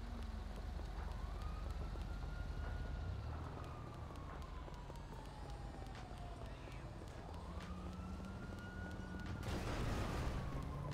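A police siren wails at a distance in slow rising and falling sweeps, faint beneath muffled voices and background rumble.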